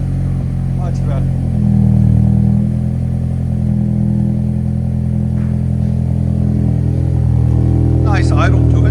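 A 2024 Toyota Camry SE with its 2.5L engine fitted with a Flowmaster Flow FX exhaust, idling with a steady low rumble that swells briefly around two seconds, up close and continuous.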